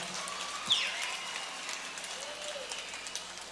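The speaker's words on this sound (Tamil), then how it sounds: "அவர்களுக்கு கைதட்டு" An audience at a Tamil speaking event applauds for speaker Parveen Sultana, producing a faint, continuous patter of clapping heard from a distance for a few seconds.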